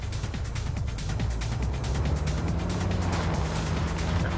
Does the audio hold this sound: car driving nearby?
yes